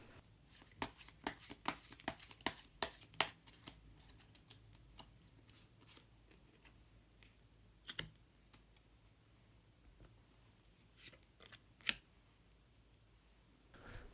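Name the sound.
shuffling and drawing color cards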